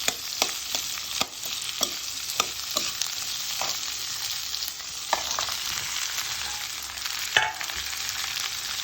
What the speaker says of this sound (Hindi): हल्का सा से मिक्स करना है और टमाटर भी साथ ही में डाल देने हैं